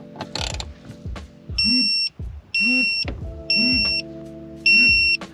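A torque wrench set to 7 newton meters tightening four Allen bolts on a short shifter, with repeated ratcheting clicks and four distinct electronic beeps as each bolt reaches torque, evenly spaced, close and clear.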